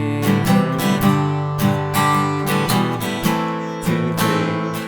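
Acoustic guitar strumming the rhythm of a song, a steady pattern of bright strums with a few sharp accents, close and clear with no voice.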